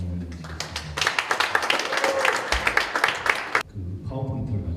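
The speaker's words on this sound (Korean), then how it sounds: "박수로 강사님을 모시겠습니다." At a Monday prayer meeting, an audience bursts into dense, steady applause to welcome a pastor to the lectern. The clapping is loud and continuous for a few seconds, then stops abruptly and leaves a quieter room with faint voices.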